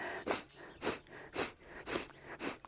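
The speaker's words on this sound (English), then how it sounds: "it's gonna be a sharp exhale" Sharp forceful exhales through the nose during yoga breath work, five evenly spaced bursts about half a second apart, close and fairly quiet.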